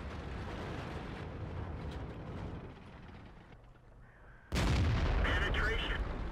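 World of Tanks tank combat: a sustained rumbling battle din softens briefly, then a sudden loud cannon blast with a penetrating hit bursts in near the end and stays loud as the roar rings on.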